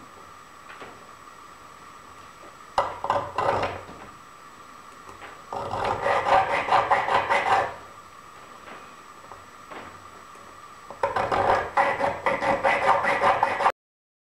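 A wooden bracelet being notched with a file, heard as three bursts of rough rasping scrapes, the first short and the later two longer, with quiet gaps between them.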